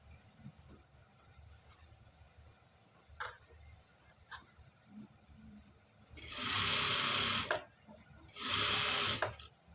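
A sewing machine stitching along the top side of fabric: two loud bursts of continuous close whirring, each lasting a couple of seconds, separated by a short pause, after quieter handling noises and clicks.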